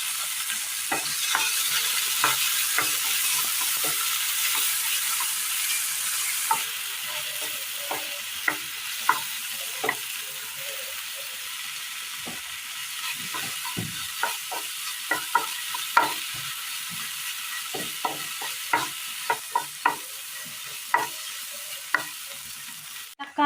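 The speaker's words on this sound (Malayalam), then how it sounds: "എണ്ണ ഒഴിച്ചതിന് ശേഷം ഇതിലേക്ക് തക്കാളി അരിഞ്ഞത് ഇട്ട് കൊടുക്കാം." Chopped tomato frying in hot oil in a pan, a loud continuous sizzle with frequent sharp stirring knocks and scrapes, no voices.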